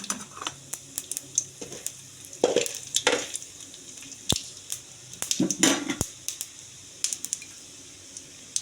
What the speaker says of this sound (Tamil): ஆயில் ஊற்றி கடலப்பருப்பு, உளுந்து, கடுகு போட்டுக்கலாம். நல்லா கொஞ்சம் நேரம் பொரியட்டும்